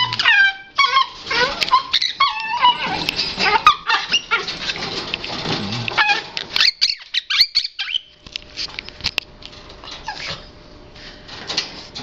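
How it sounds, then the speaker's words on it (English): A dog tries to get into a caged bird's cage, giving excited whimpers and squeaks mixed with sharp bird calls, busy scuffling bursts in the first eight seconds, then quieter intermittent noises. "The amazing dog versus a bird. Trying to get in the cage."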